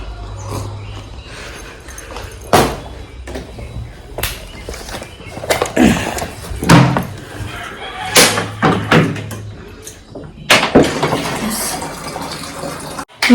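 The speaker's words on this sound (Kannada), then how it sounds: "ಮತ್ತೆ ಬಾಟಲ್ಗೆ ನೀರು ತುಂಬ್ಕೋಬೇಕು" Water runs from a tap into a bottle in short bursts, broken by knocks and clatter, with a rooster's call somewhere in the background.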